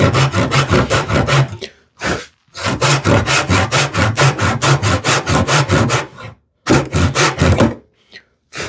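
A freshly sharpened tenon saw cuts through wood in quick, even back-and-forth strokes, a dense rasping rhythm broken by short pauses between bursts, close and loud.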